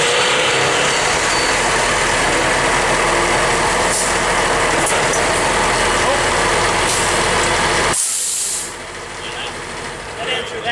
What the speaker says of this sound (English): Okay, truck starting.